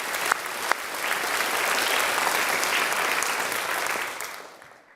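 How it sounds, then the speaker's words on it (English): Sustained applause from an audience at the Scottish Parliament Euroquiz Final in honour of the Deputy Presiding Officer, a steady broadband clatter of many hands that holds level, then fades out over the last second. "we should do another round of applause for Christine Graham"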